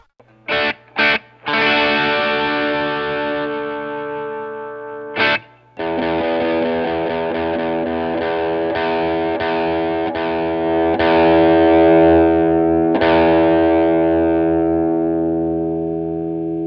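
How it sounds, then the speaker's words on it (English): An American Vintage II Jazzmaster electric guitar plays through a Bill Finnegan Klon KTR overdrive pedal, opening with a few short picked stabs, then long ringing overdriven chords that sustain and decay. "We have a Bill Finnegan Klon KTR that I bought for this video"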